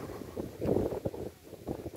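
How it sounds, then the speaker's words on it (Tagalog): Strong wind buffets and rumbles against the microphone in gusts at an outdoor viewpoint overlooking a dam, a low roaring noise rising and falling with no talking. "Lakas ng hangin"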